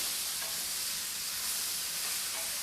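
Mixed vegetables for sambar sauté in hot oil, making a steady, dense, close sizzle with faint stirring and no talking throughout.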